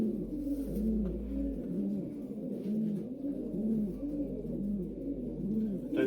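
A racing pigeon cock, a lakebred bird, coos repeatedly in a soft, steady rolling rhythm, close and alone over a low background hum.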